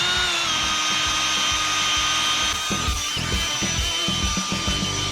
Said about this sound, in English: now we're gonna use a scrub brush on here